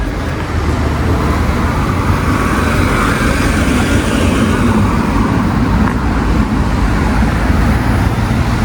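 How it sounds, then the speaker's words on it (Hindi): A car rolls along a street in a Dutch village, its steady engine and tyre rumble part of continuous road noise that stays fairly loud and even throughout, with no voices over it. "और शायद ये हमारी गाड़ी आ गई।"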